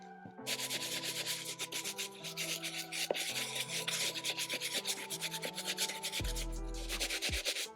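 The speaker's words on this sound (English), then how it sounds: "Now we'll just work up to the uppers. Medium bristle brush." A medium-bristle brush scrubs the mesh uppers of a Dior B22 sneaker in steady, rapid back-and-forth strokes, a close, continuous rasping rub with short pauses and no talking.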